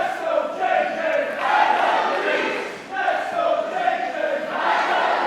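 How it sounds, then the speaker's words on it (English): Wrestling crowd at an independent anniversary show reacting with a split response, loud mixed cheering and chanting in two swelling waves, filling the hall at close range without clear talk. "this crowd are showing a split here. Some are coming alive for Jay Joshua."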